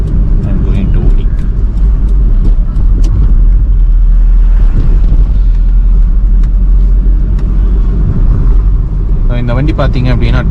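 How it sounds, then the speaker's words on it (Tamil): An old 2003 Hyundai Accent drives along a hill road near Ooty, its engine and road rumble a loud, steady drone throughout, with someone talking over it. "இந்த வண்டி பார்த்தீங்க அப்படின்னா 2003 Hyundai Ascent, ரொம்ப பழைய மாடல்."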